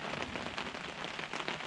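Cold rain falls at around freezing on a hunting food plot, making a dense, continuous hiss of drops striking surfaces close by, steady and even with no talking.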